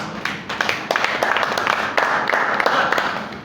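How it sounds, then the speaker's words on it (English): Audience applause at a Toastmasters club training session, a dense patter of many hands clapping steadily and close by for several seconds, no talk over it. "So a round of applause for yourself."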